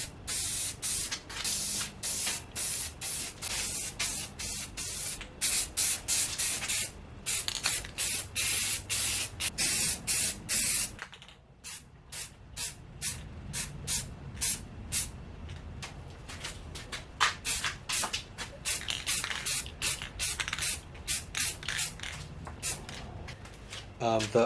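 A spray can lays down a base coat on a Dante model, with repeated hissing bursts, some long and some short, coming close and loud with brief gaps and clicks between them.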